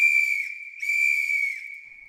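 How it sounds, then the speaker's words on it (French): A long, steady single-pitched train whistle sounds twice in close succession, bright and piercing, the second blast fading out gradually. "un sifflement retentit."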